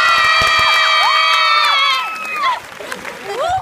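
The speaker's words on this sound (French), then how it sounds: "on peut l'applaudir très fort" A cinema crowd at the Gaumont premiere of the Aladin film cheers loudly, with high-pitched children's shrieks and whoops over scattered clapping. The screams peak early, then fade into mixed shouts and excited voices.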